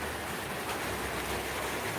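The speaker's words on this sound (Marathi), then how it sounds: "खूप पाऊस पडत आहे आमच्याकडं लय पाऊस आहे बुवा जोरदार पाऊस आहे" Heavy monsoon rain pours steadily and evenly, a dense continuous hiss of drops on surfaces with no voices.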